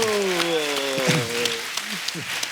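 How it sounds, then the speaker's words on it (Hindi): A television comedy show's studio audience applauds a mention of the film Super 30. Scattered claps grow out from under a voice that talks at the start, then thin into sparse individual claps. "सुपर 30 के लिए जोरदार ताली।"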